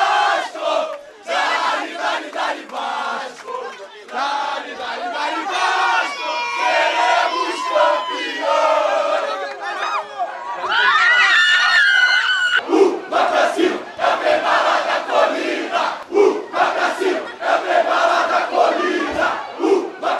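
Vasco da Gama football supporters massed at an airport for the team's arrival, chanting and singing loudly in unison, with whistles and shouts rising over the crowd and rhythmic surges throughout.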